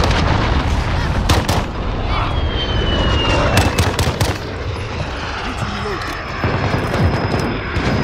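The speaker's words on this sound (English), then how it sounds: "Allied cruise missile launched." In a video game firefight, an allied cruise missile launch and explosion ring out as loud bursts and sharp booms over continuous gunfire and battle noise, with voices briefly shouting in the mix.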